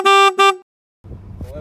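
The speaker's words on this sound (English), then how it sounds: "Honk your horn." A car horn sounds two strong honks in quick succession, loud and close, followed by a gap and then low engine and road rumble from inside a moving car on an outing in Marbella.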